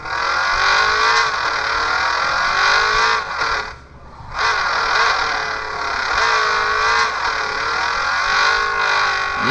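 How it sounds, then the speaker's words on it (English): Car in the mobile drifting game Drift Max Pro, its engine whining loud and steady with revving pitch sweeps, dipping briefly midway before rising again, with no talk. "Look at this car is actually smooth drifting though."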